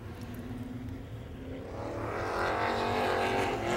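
Super stock race cars circling a short oval track at a Fox River Racing Club feature, engines droning steadily and swelling louder as a pack draws nearer.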